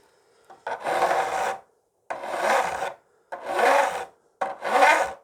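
A file rasps across guitar fret ends to bevel them, four steady close strokes of about a second each separated by short silent pauses.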